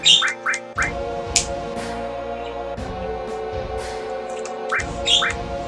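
Several loud, harsh pet bird squawks in bursts over a steady background hum, with sharp calls clustered at the start and again near the end.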